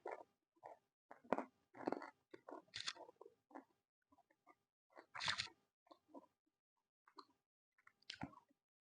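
Crunchy fried chicken nuggets dipped in barbecue sauce are chewed up close in a quiet room, with bursts of crisp crunching separated by short pauses.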